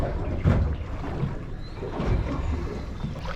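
A fishing boat's engine runs steadily with a low, rough rumble and broadband wash that stays constant throughout, without talk.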